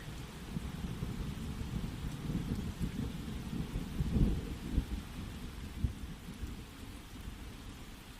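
A rainstorm with steady rain and low rumbles of thunder, a continuous soft wash with a swell of rumble midway, heard at a distance.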